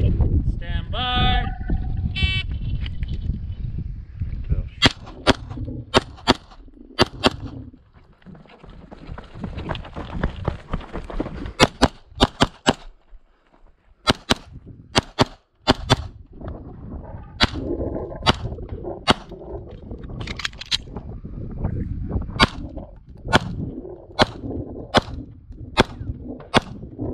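Pistol shots in a practical shooting competition stage, a string of sharp, loud cracks in irregular bursts spread across the run, with a pause mid-way, some movement noise and brief talk at the start.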